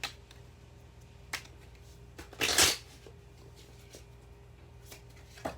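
Love oracle cards being shuffled in the hands: scattered soft card taps and flicks over a low room hum, with one louder riffling burst midway, close and fairly quiet.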